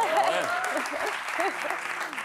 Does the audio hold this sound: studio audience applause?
yes